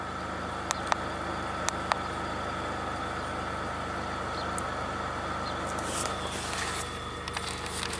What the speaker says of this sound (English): My injection pump is working.